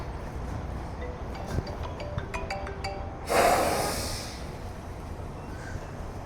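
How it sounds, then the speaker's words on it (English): A short electronic ringtone melody of tonal beeps plays, followed by a loud breathy rush of noise that fades out. "Phone call."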